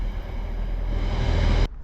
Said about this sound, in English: Train coming away.